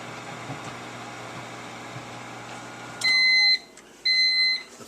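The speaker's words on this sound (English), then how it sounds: "we're going to put 4 minutes in the microwave" A microwave oven cooking a single ear of corn hums steadily for a few seconds, then stops and sounds two loud, sustained finishing beeps with a short gap between them.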